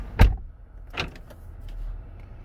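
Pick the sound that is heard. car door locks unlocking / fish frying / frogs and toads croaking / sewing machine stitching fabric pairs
car door locks unlocking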